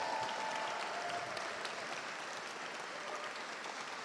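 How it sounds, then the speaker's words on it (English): Sustained applause from a large crowd, dense and even clapping that holds at a steady level without pause. "Give her a round of applause."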